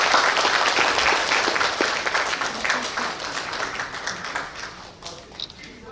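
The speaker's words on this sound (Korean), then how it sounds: "여러분 큰 박수 부탁드리겠습니다" A large audience in the Mungyeong City Hall main conference room applauds as flowers are presented to a novelist after her lecture, dense, steady clapping from many hands that gradually thins and fades, with some voices underneath.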